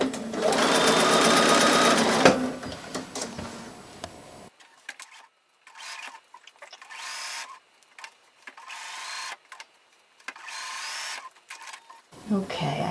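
A sewing machine topstitches free-form curved quilt leaves. It opens with a loud continuous run of stitching, then gives shorter stop-start bursts as the fabric is pivoted.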